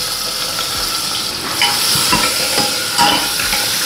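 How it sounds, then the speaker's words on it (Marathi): Chopped onion sizzles in hot oil tempered with cumin, mustard seeds, asafoetida and curry leaves, a loud close crackling hiss with occasional stirring scrapes. "आणि आपला कांदा टाकते."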